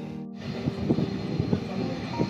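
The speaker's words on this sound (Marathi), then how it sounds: "ते मोठं जे विमान आहे तिथे थांबलेलं ते आता ना पुढे पुढे सरकत आहे" A large airliner taxiing forward on the runway at Chipi Airport in Sindhudurg before takeoff, giving off a steady, moderately loud engine hum heard from some distance.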